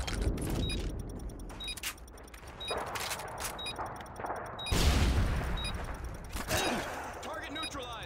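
Rapid bursts of gunfire in a Call of Duty Search and Destroy match, sharp broadband cracks scattered across the clip among other game effects, with a player talking over the shots.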